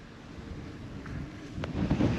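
Wind gusts across open water during a fishing outing, a low rushing buffet against the microphone that swells and grows louder near the end, with no talk.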